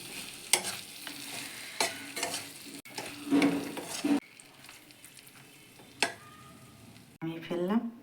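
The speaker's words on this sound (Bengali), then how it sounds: "মাছগুলো মশলার সঙ্গে কষিয়ে নেব" Fish pieces being stirred with spice paste in a hot pan give intermittent scraping strokes and a soft sizzle, close by, with uneven pauses between stirs and some quieter stretches.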